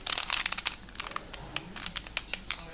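A Rubik's cube turned by hand, a quick close sequence of plastic clicks and rattles, busiest at the start and then coming in scattered taps, with no talking.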